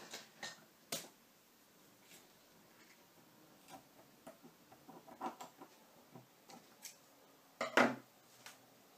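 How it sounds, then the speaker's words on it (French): Scissors cut thread while scrapbooking, giving faint scattered snips and light clicks in a quiet room, with one louder, sharper cut near the end. "Et je coupe"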